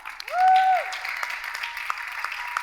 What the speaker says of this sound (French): On acclame Vanessa